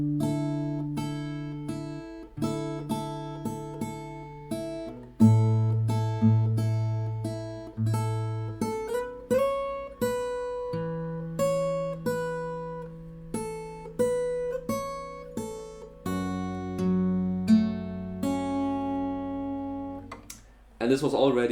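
Fingerstyle acoustic guitar playing the intro of Waymaker on open strings, steady picked arpeggios ringing clearly and alone for about twenty seconds.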